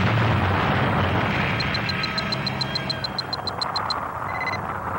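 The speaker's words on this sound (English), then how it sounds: "And then, a tremendous explosion." The starship Enterprise blows up in an animated sound effect: a long, loud rumbling blast with a crackling, roaring tail, followed by a quick run of rapid electronic beeps.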